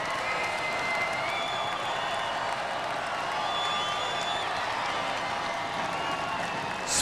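Arena crowd at a robot combat event cheering and clapping in a steady, roaring wash over about seven seconds, with faint whistles or whoops on top.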